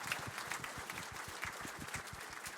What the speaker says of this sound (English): can put your round of applause for Wilson too, great effort.